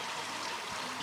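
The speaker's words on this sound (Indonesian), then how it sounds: "Ini ibu berenang pemirsa ya" Water swirling and splashing as an elderly mother swims, a steady, close wash of churning water with no talking.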